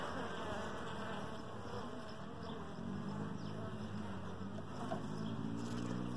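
A swarm of honeybees from the Flynn colony hums steadily around an open hive as new comb is worked, a dense, constant buzz that carries nearby and unbroken throughout.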